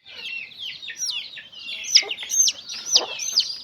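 Two-week-old chicks cheep and peep continuously during Newcastle disease vaccination, a dense chorus of high chirps close by with a few louder calls.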